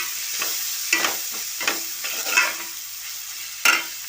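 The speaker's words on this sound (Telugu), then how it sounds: "ఆనియన్స్లో సాల్ట్ పసుపు అయితే వేసిన ఫ్రై చేస్తూ ఉన్నా" Onions fry in oil with salt and turmeric in a home kitchen, a soft steady sizzle broken by several sharp stirring scrapes from a spoon, close and alone without talk.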